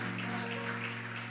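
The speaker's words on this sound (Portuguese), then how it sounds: "Aplauda forte a Jesus." Congregation applauding Jesus during a church service: a dense, steady wash of clapping blended with a sustained musical backing, continuous through the short stretch.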